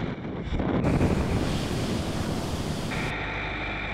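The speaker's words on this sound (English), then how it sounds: "the unpredictable Cape Horn winds begin to rage" Strong Cape Horn wind roars and gusts across the microphone over crashing sea surf, loud and continuous with a surge in the middle.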